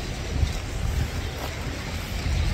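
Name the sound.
wind by the sea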